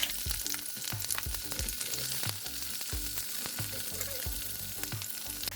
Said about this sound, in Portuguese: Vou colocar a cebola pra dar uma refogada boa nela